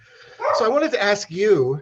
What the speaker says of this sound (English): So that's my dog in the background